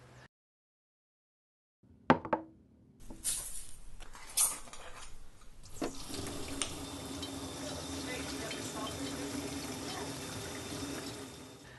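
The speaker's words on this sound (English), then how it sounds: "Mix up some salt and water." Water running from a tap into a vessel to mix with salt, starting after a few clicks and knocks and settling into a steady splashing, trickling stream that fills the rest of the clip.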